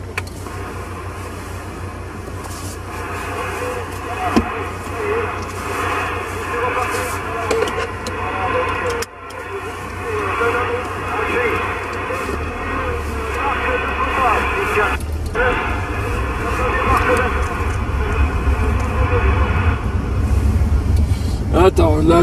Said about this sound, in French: je suis en train de faire chauffer un petit peu la voiture